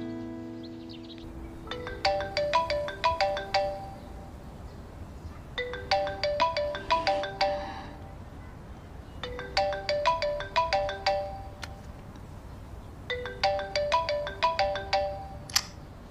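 A mobile phone ringtone plays a bright electronic melody in four repeated bursts with short pauses between them, fairly loud and alone with no talking.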